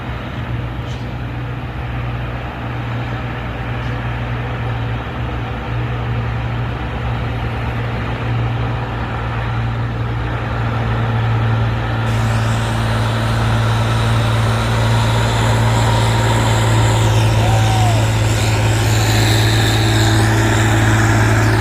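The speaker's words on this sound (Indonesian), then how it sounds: "Tangki Hino." A Hino tanker truck climbs a steep hill, its engine a loud, steady low drone with continuous rumble throughout, growing slightly stronger toward the end.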